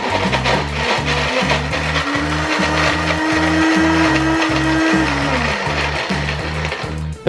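A household blender whirs steadily while blending bar soap, with a rhythmic pulsing drone and a strained motor tone that shifts briefly in the middle before cutting off at the end.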